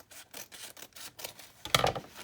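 Close, quick snipping and rustling of scissors cutting through paper, several short strokes followed by a louder crisp cut.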